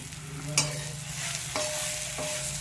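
Cluster beans are stirred and mixed in a pan over a steady sizzle, with a few sharp spatula scrapes and taps against the pan. Nobody talks.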